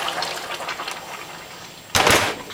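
Hot water is poured into a pan of frying cabbage on a glass cooktop, and a loud hissing, bubbling rush of liquid bursts in near the end after a steady softer sizzle.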